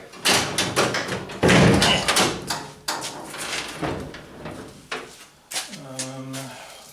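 Door of a 1977 Camaro Z28 opened and shut in a garage, giving several close clunks and latch clicks, with a final creaking, squeaky swing.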